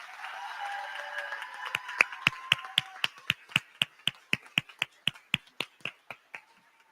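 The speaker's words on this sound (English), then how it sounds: "Let's give another big round of applause for our promoting class of 2024" Small audience applause for a 2024 fifth-grade promotion class: a few hands clap in crisp, evenly spaced beats, close and distinct, trailing off after several seconds.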